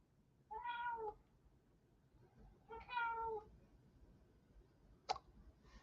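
A house cat meows twice, clearly and close by, with a pause between the calls and a short click afterward, in an otherwise quiet room.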